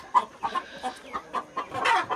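Chickens on a rural Brazilian farm smallholding cluck in short repeated bursts, several birds close by, loud and fairly busy, with no talk over them.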